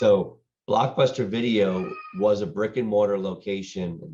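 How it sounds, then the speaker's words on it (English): A cat meows faintly in the background of a home studio, mostly masked by a person talking steadily in the foreground. "Apologize for my noise and my cat in the background."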